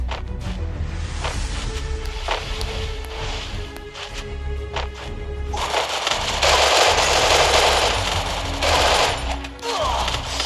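An MP40 submachine gun in a video game fires in rapid bursts, with rattling automatic shots early on and a longer, louder sustained volley in the second half, up close and dominating the game sounds.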